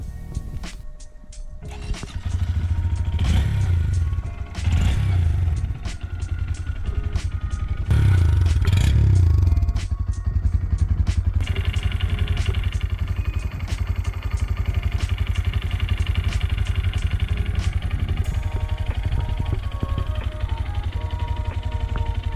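A Honda MSX 125cc motorcycle engine cranks and sputters, catches with a couple of revs, then settles into a steady, rattling idle close by.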